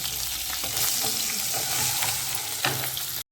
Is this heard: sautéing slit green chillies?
yes